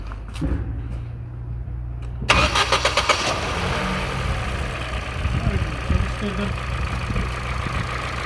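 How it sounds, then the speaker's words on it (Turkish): A Ford Focus 3 engine cranks and catches after a couple of seconds, then settles into a steady close idle with a few faint knocks. "Onun için aracı çalıştırıyor."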